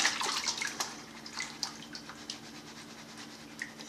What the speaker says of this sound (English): Smooth motions. Let the water pull out the material.